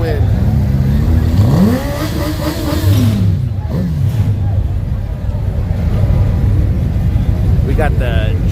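A Suzuki GSX-R sport bike at a drag strip, engine revving and rising in pitch as it pulls away, loud and close amid steady crowd and track noise, with people talking over it.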